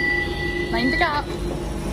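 A London Underground train hums along with a steady electric whine and a brief metallic squeal of wheels midway, under constant rolling noise and faint voices.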